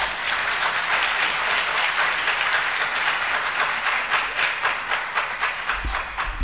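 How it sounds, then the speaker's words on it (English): Dense, sustained clapping from a large audience at the UHAS Grand Durbar 2022 university ceremony, loud and steady, thinning into separate claps near the end. "Another round of applause."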